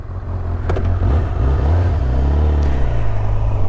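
A 2019 Honda CB1000R motorcycle in sport mode, with full power and low traction control, rumbles loudly and steadily as it rides, the engine note shifting slightly under a close wind-buffeted roar.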